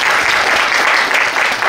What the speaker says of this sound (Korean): 박수 한번 치면서 받아주세요.